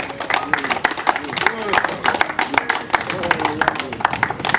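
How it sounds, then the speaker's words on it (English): A small group clapping in support, with uneven, distinct hand claps close by, mixed with people talking over the clapping throughout. "we want to clap Chicken Lady, Barney and Gary for the support what they've been putting in"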